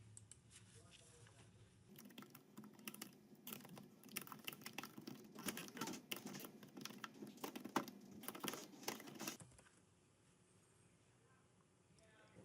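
Computer keyboard typing in a home-inspection report writing program, a fast close run of light clicking keystrokes under a low room hum, quiet overall, stopping near the end.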